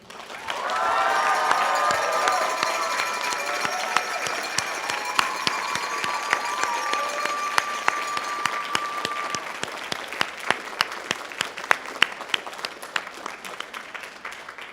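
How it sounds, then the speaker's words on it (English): Graduates at Dalhousie University's Faculty of Management spring convocation send up loud, dense applause with cheers, voices ringing out at first, then steady massed clapping that thins slightly toward the end. "Now it's your turn to honor them with your cheers and applause, so let them hear you"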